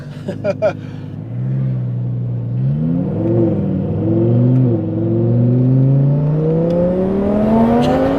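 A 1300HP Audi R8 engine accelerates hard during a ride-along, a loud rising roar climbing through gears with a brief dip at a shift, after a short burst of talk at the start.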